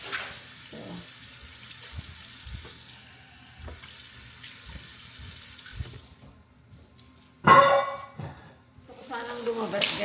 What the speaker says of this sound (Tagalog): Ibabad ko muna to sa tubig kasi hindi ko matanggal dun sa lalagyanan